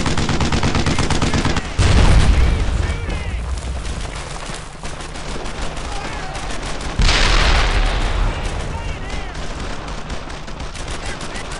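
Gunfire rattles through a battle in the video game Brothers in Arms: Earned in Blood. Dense, loud bursts of rapid shots come in waves, with heavier booming volleys near two and seven seconds.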